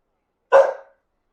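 A single sharp dog bark rings out close and loud, one short burst that stops abruptly, with silence before and after it.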